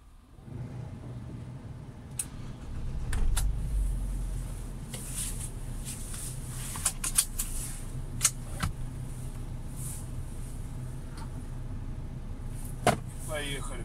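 A 2019 UAZ Patriot's engine fires up a few seconds in, swelling briefly before settling into a steady idle hum, with occasional clicks and cabin rustles nearby.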